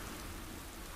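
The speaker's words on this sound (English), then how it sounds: "Oh my god, now it's raining on my dragon." Rain in the video game Minecraft falls as a steady, even hiss of drops, soft and unbroken throughout.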